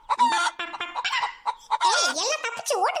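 Cartoon chickens on a poultry farm cluck and squawk in quick, loud bursts, several birds calling over one another at close range, with no background noise.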